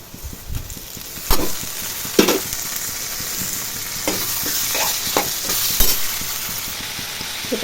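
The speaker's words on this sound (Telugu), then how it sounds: "ఇప్పుడు పచ్చళ్ళు వేసేస్తాను అందులో." Ingredients dropped into a pan of fried onions for a prawn, chana dal and coconut curry sizzle loudly up close, with repeated spoon stirs and scrapes against the pan breaking through the constant frying hiss.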